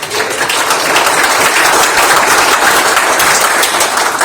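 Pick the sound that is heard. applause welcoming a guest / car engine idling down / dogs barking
applause welcoming a guest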